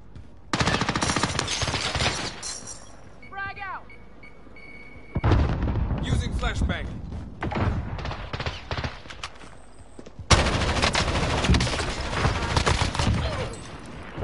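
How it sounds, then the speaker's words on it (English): Heavy gunfire in Call of Duty: Warzone on Verdansk, with dense bursts of automatic fire in several loud stretches broken by short gaps and clinking sounds. "I'm under fire."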